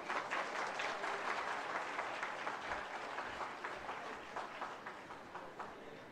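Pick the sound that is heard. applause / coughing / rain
applause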